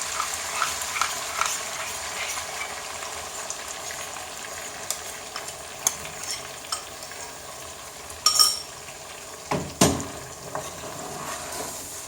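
Yogurt masala for chicken korma sizzles and fries in a pan, a steady crackling hiss with scattered sharp scrapes and clinks of a spoon stirring, louder knocks near the end, no voices.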